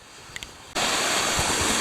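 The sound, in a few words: brook flowing along a hiking trail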